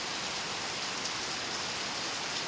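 Heavy night rain falls without pause near a canteen, a continuous, full wash of drops hitting surfaces, close and unbroken by speech.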